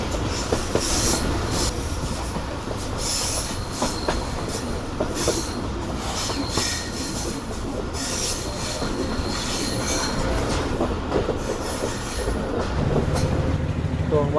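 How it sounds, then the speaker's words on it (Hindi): A fully packed Subak Raftar railcar rumbles steadily as it changes track onto a loop line, with continuous wheel noise, clattering and faint wheel squeal throughout, no talk. "हमारी ट्रेन यहाँ से ट्रैक चेंज करके लूप लाइन पर लगेगी"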